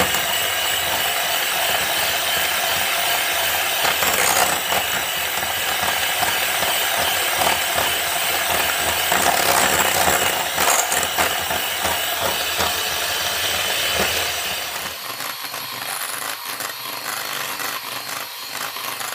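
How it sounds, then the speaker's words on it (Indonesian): An electric mixer beats an egg mixture at its highest speed, making a loud, continuous whirring and rattling drone that eases slightly toward the end. "Di sini aku kocoknya pakai speed yang paling tinggi."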